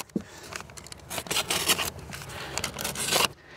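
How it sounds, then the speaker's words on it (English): A cement bag being cut in half with a blade, close rasping and ripping of paper over a few seconds, building to louder tearing strokes near the end. "I just cut the bag in half."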